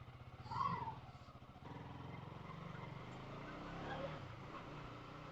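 A KTM Duke 200 motorcycle runs with a steady, faint low engine drone on a cold early-morning ride, with a brief louder swell near the start.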